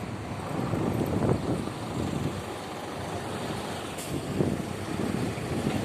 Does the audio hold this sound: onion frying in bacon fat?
no